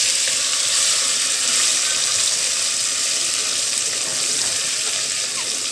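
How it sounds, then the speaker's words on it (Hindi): Cubes of boiled potato frying in hot ghee give a steady, close, loud sizzle and crackle that runs unbroken throughout with no one speaking. "अब हम ये अपने घी में डाल देंगे।"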